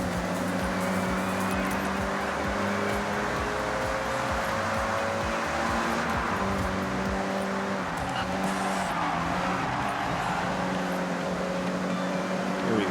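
A Mitsubishi EVO 8 racing a lap in Forza Horizon 6, its engine droning with rising and falling revs and gear shifts through corners, with occasional tire squeal and someone briefly speaking over the steady racing noise.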